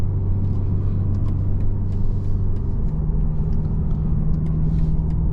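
A 2023 BMW Z4 30i roadster cruises along, its engine a steady low drone with road rumble from the cabin, the pitch shifting slightly partway through as the gear or speed changes.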